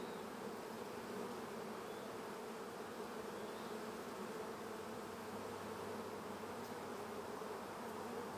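Honey bees buzz densely around brood and drone brood frames lifted from a hive while a nucleus colony is made up, a steady close humming swarm with no talk.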